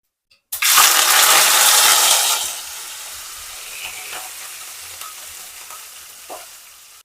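Mustard seeds and onion dropped into hot oil in a kadai burst into a loud, close sizzle that rises sharply, then settles into a softer steady frying hiss with faint clicks and pops.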